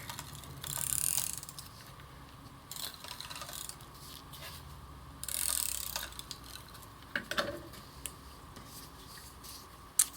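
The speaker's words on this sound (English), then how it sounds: "And then we will take our adhesive running tape again." A handheld adhesive running tape dispenser rolls tape for card-making with faint ratcheting clicks and soft mechanical whirs, quiet and close, in a few separate passes.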